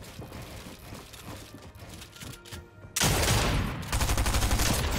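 Gunfire in the video game Fortnite Chapter 3: scattered shots and mechanical clatter at first, then a sudden loud, dense burst of rapid repeated firing that runs to the end.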